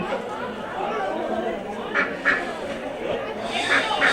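Ducks quack at an FFA agricultural fair, several short nasal calls near the end over a constant murmur of crowd chatter and voices.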